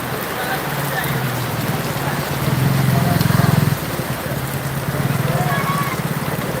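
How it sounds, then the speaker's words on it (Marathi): Heavy unseasonal rain pours steadily over a vegetable market in Boisar, Palghar, a dense continuous hiss that swells briefly louder midway, with a low rumble beneath and no clear talk. "आता पावसात आम्ही अडकलो पाऊस काय थांबायचा"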